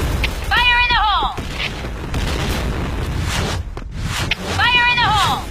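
Grenade explosions in the online shooter Point Blank, a loud, dense stretch of booming blasts and rumbling gunfire-like noise running throughout, with two short processed voice callouts cutting in near the start and end.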